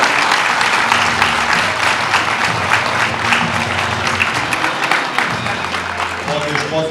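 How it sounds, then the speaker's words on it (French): Warm, loud applause from a gathered crowd at a village New Year's greetings event, honoring Dominique's medal; continuous clapping near and far with voices murmuring underneath, tapering near the end. "Félicitations à Dominique, je pense qu'on peut applaudir."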